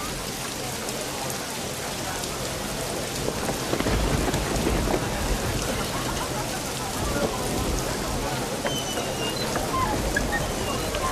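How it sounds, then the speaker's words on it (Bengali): Steady, dense rainfall hisses throughout, with a low rumble of thunder swelling in the middle of the downpour. "এর জন্যই তো রহমতের বৃষ্টি হচ্ছে।"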